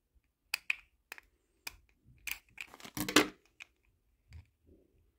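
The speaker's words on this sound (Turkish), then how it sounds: "Makasla deneyelim." Scissors snipping and clicking against a plastic toy being forced open, sharp isolated cuts and crinkles in an uneven rhythm, fairly close and quiet with short pauses between.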